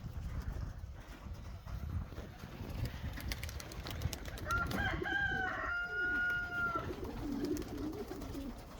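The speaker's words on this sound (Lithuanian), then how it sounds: "Skraido balandžiai išleisti patinai." Racing pigeons cooing outdoors in February, with released males flying about. Soft low coos come near the end, and a louder drawn-out bird call rises midway over a faint, busy outdoor background.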